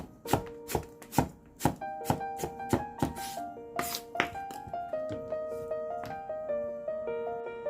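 A knife thinly slices vegetables for kimchi on a board, with a quick run of sharp, close chopping strikes that start fast and loud, then thin out into lighter, spaced taps.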